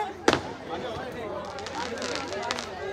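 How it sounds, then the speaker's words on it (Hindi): Firecrackers set off at a college farewell party: one sharp bang early on, followed by lighter crackling amid a noisy, chattering crowd, with voices talking over it. "ये देख पटाखे।"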